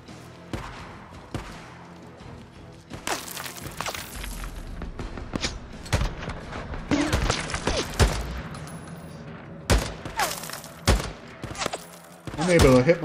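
Gunfire in the video game Days Gone comes as scattered bursts of sharp shots and thumps, irregularly spaced over a low ambient bed, with a voice talking now and then.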